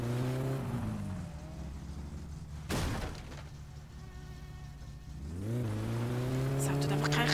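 A car engine in the video game My Summer Car, short on power, revs loudly. Its pitch climbs, drops away, then climbs again in a steady, whining drone.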